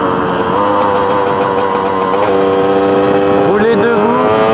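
KTM 125 EXC enduro motorcycle ridden while the rider stands on the pegs, its two-stroke engine droning steadily close by with a rising rev near the end, wind noise throughout.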